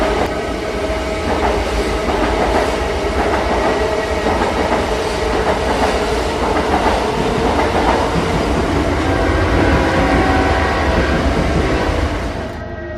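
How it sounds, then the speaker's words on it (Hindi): The Shatabdi Express pulls into a station, a loud continuous rumble of rolling wheels and rail clatter with a faint horn-like tone above it, steady throughout before easing off at the very end. "रात के 8 बजे शताब्दी एक्सप्रेस स्टेशन पे आती है।"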